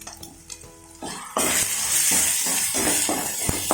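Spices and chilli powder are sautéed in a pan for chilli egg curry: a few quiet clinks at first, then a loud sizzle bursts in and carries on under repeated stirring scrapes, close up, with no talking.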